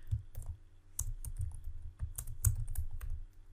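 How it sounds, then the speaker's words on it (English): Keys on a computer keyboard clatter in quick, uneven bursts of close, crisp clicks while someone types a short line of Python code, with brief pauses between the runs. "we're going to type in the sentence."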